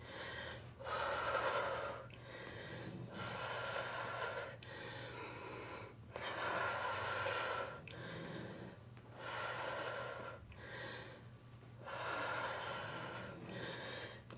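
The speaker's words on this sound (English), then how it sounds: "my dog, Loki, is right at the base of the camera and he's snoring right now" A pet dog named Loki snores right beside the camera during a home cardio workout, giving a steady series of raspy, snorting breaths about every two seconds, fairly close and continuous, with no talking over it.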